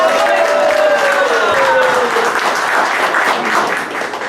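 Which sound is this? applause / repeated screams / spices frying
applause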